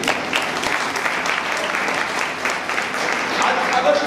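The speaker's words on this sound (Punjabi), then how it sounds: "ਤਾਲੀ ਦੇਈਏ ਜ਼ੋਰਦਾਰ" Church congregation at a service in Nurmahal clapping together, a dense, steady, fairly loud applause that holds evenly for about four seconds with a faint murmur of voices underneath.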